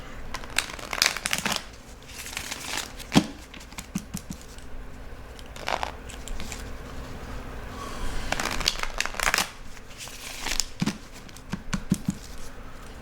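Cards being shuffled in repeated riffling bursts, crisp and close, with soft tapping and handling sounds between the shuffles.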